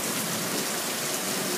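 Rain mixed with hail pours down over flooded streets and a grassy yard, a steady, dense hiss of falling water heard up close without pauses.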